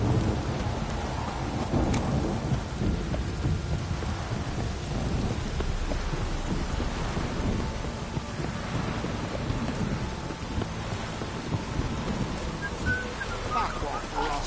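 Steady heavy rain pours throughout in the video game The Witcher, with deep rumbles of thunder rolling underneath and occasional louder cracks.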